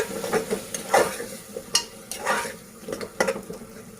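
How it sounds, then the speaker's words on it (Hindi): Potato pieces frying in spiced masala in a pan over a medium flame, with repeated bursts of scraping and stirring over a soft sizzle, close and fairly loud, no talking. "अब इसमें मैं आलू डालूंगी और आलू को हम अच्छे से इस मसाले में भूनेंगे।"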